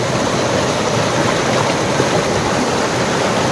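Loud, steady rush of flowing stream water, dense and continuous throughout with no voices.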